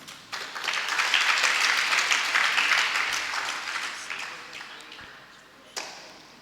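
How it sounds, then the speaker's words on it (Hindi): An audience claps together at a spiritual discourse in Pathariya, a dense wash of applause that swells, holds for a few seconds, then thins and fades as a voice speaks under it. "वे ताली बजा रहे बेचारे"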